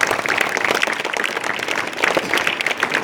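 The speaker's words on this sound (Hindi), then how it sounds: "एक बार जोरदार ताली हम लोग देंगे दादा के लिए।" A school audience claps loudly for a visiting guest, a dense and steady burst of applause that fills the room for a few seconds.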